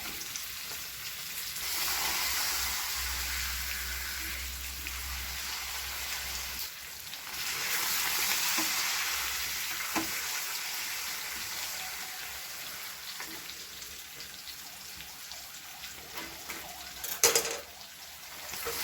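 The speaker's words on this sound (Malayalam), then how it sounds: "അപ്പോൾ നമ്മുടെ പപ്പടം ഫ്രൈ ചെയ്തതും റെഡിയായി" Papad frying in hot oil, a steady rain-like sizzling hiss that swells in two bursts and fades, with a brief sharp clatter near the end and no talk.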